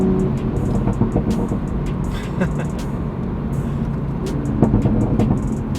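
A 2020 Toyota Supra on the road, heard from inside as a steady engine drone with road and wind noise that swells slightly near the end.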